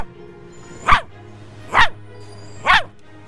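Dog barking three times at a steady interval, loud and close, with a faint hum underneath and no talk.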